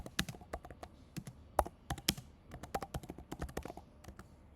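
Rapid, uneven keystrokes on a computer keyboard as a command is typed into a terminal, close and fairly crisp, with short pauses between bursts and no talking.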